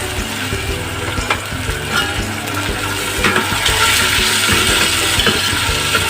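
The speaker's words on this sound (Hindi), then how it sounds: "इनको भी ज़्यादा फ्राई नहीं करना, बस 1 मिनट ही इनको करना।" Carrots and capsicum stir-fry in a hot pan for fried rice, a steady loud sizzle with scraping and clinking stir strokes throughout, no voices.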